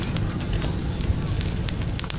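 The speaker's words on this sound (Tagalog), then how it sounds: "May blower siyang kunti para yung apoy permanente." A charcoal fire roaring under a small blower, a steady rushing whoosh with faint crackles, close and constant.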